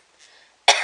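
A single sharp cough, close and loud, after a brief faint breathy sound.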